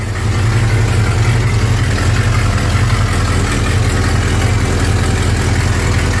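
An idling Buick engine with an exhaust leak and an overheating problem runs close and loud, a constant low rumble with a rapid ticking puff from the leaking exhaust throughout.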